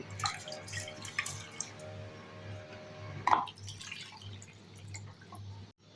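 Half a cup of rice being washed in water while preparing dhokla, with close, light splashing and dripping water and a brief louder clink partway through, no voices.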